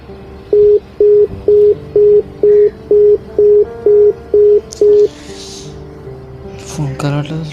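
A call that won't connect gives a run of ten evenly spaced, short beeps, loud and steady, then fades into background noise with a few clicks at the end.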